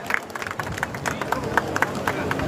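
Audience applause at a welcoming ceremony for a water storage project foundation event in Ajmer: scattered crowd clapping with sharp irregular claps under a steady hum of crowd noise and voices.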